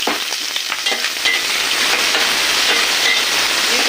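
Thinly sliced onions hit hot oil in a pan, giving a loud, dense, continuous sizzle with light stirring and no voices.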